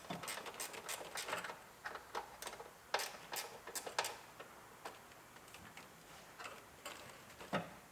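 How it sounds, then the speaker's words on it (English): A ratcheting wrench working a hidden bolt on a 1993 Mustang GT engine, giving quiet, irregular bursts of sharp clicks, close up with no talking. "so we'll have to use our ratcheting wrench"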